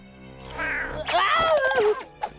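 An injured cartoon cat in a Smurfs cartoon lets out a drawn-out, wavering meow, loud and close, rising and falling before trailing off, followed by a short final yelp.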